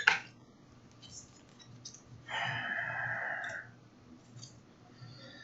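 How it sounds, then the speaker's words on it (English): Playing cards are shuffled during a Gloomhaven board game session, a riffle burst of about a second and a half in the middle, close and moderately loud, with quieter handling clicks around it. "So we're shuffling a little bit more real quick."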